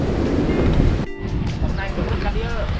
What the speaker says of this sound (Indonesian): Saya nggak berani nyebrang karena lumayan ombaknya deras sekali